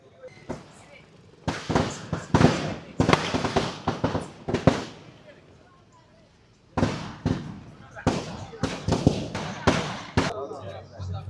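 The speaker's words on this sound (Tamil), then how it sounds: "இப்போது வெடி கொளுத்தி ஆனந்தமாக இந்த நிகழ்வை நடத்தி தொடக்கி கொண்டிருக்கார்" Firecrackers go off at a street celebration of a TVK and Vijay victory in Jaffna, two rapid runs of sharp, popping bursts separated by a short lull, with people talking in the background.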